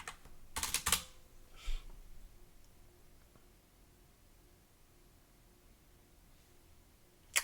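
Computer keyboard typing, a quick close burst of clicking keys near the start, then a single tap, a long quiet stretch and one last keystroke at the end.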